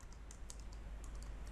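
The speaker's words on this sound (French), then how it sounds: "appuie sur la touche entrée du clavier" Quick, light keystrokes on a computer keyboard while signing in to join a Windows Server 2016 machine to an Active Directory domain, a short soft burst of clicks with no talking.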